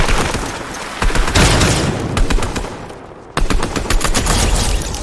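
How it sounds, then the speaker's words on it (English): Gunfire from shooting in the Fortnite video game rattles in rapid, loud bursts, with dense repeated shots that pause briefly before resuming, heard alone without talk. "you click on L2 which is for aim, and R2 for shooting, like this"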